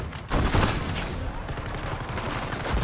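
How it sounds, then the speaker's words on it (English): Gunfire in Black Ops 6 Zombies on the Liberty Falls map, a few sharp close blasts followed by a rough burst of shots, with no talk. "Just use that shotgun."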